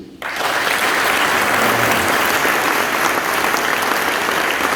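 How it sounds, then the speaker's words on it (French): Audience applause at a French-language youth retreat gathering, a dense steady burst of clapping that starts abruptly and holds loud and full for several seconds. "Si vous êtes content de cela, applaudissez."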